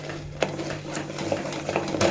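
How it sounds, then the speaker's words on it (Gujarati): A spoon stirs a thick, pasty pistachio barfi mixture in a pan, giving repeated soft scraping strokes with a few sharper clinks against the metal, close up and steady, with no talk. "હલાવવાનું જોર રાખવાનું"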